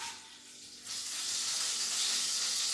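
Whole garam masala spices and two bay leaves hit hot oil in a pan: a faint hiss, then a sudden loud sizzle that swells and holds steady close by.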